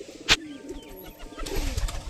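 A golden pigeon chick and other pigeons coo in soft, low, throaty murmurs close by, with a sharp rustle or flutter early on and quiet background noise.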